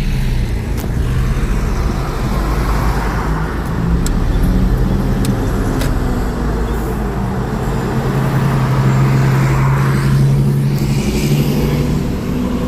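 Road traffic in Saudi Arabia heard from inside a car, a constant low rumble of engines and tyres with a longer droning vehicle passing, steady and fairly loud, no speech.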